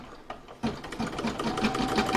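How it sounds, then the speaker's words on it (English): Embroidery machine sewing a satin stitch over a hexagonal edge, a quick rhythmic needle chatter starting after a short pause and running steadily at close range. "Next is the satin stitch over the hexagonal edge,"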